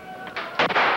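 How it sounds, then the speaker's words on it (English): Several sharp gunshots crack in quick succession during a police training exercise, fired from the side and behind in a dark room, loud and close with a brief echoing tail. "These shots are coming from the side and behind us, not from the front"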